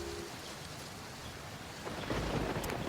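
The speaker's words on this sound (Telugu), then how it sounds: "బయట ఇలా వాన పడుతున్నప్పుడు" Rain falls steadily outside a house, a soft hiss that swells into a louder rumble of thunder in the last second. Quiet overall, with no talk.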